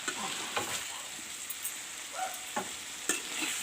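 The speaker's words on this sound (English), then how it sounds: "Put in the cauliflower." Cauliflower frying in a pan for a fish and cauliflower curry, a steady low sizzle broken by a few sharp scraping strokes of a stirring spoon, close and fairly quiet throughout.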